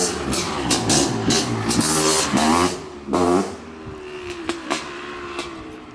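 Several two-stroke dirt bikes, among them Honda CR500 and Kawasaki KX500 machines and an 85, rev hard in crisp, rising bursts with sharp blips and a brief drop before climbing again, loud and close with no talk.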